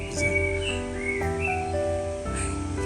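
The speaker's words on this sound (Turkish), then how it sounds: "Bülent, kuşların sesini duyuyor musun?" Birds sing beside a dam in Strasbourg, giving short whistled chirps and rising notes over a steady outdoor background, at moderate distance, for a few seconds.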